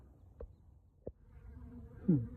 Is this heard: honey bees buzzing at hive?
yes